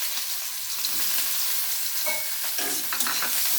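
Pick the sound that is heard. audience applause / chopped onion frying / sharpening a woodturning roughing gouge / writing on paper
chopped onion frying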